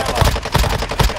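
Warzone gunfire on Rebirth Island: a quick, loud burst of rapid shots, about four close cracks in just over a second.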